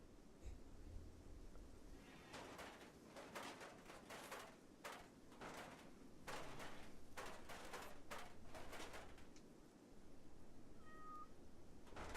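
A cat meows repeatedly in short bursts, about a dozen calls spaced irregularly and fairly close, over a quiet indoor background.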